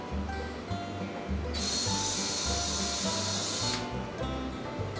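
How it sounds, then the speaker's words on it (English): A power drill whirs steadily in short pulses, with a sharp high-pitched grinding rising for a couple of seconds as the bit bites in, drilling a pilot hole in a pot. "And now I'm just going to create a pilot hole."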